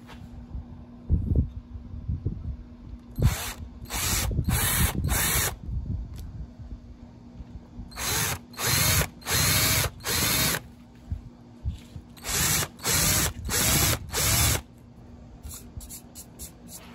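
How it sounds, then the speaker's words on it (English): A power drill with a countersink bit drills into wood on an electric guitar body, whirring in repeated short bursts, grouped in clusters with brief pauses between, close and loud, over a low steady hum. "Now I want to go in with a little countersink drill bit"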